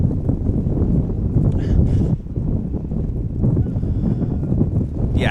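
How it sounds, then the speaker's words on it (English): Strong, steady wind buffets the microphone across an ultimate frisbee field at an outdoor tournament, a continuous loud low rumble that dips briefly before resuming. "It feels like it's just blowing 35 kilometers an hour all the time, directly across the field"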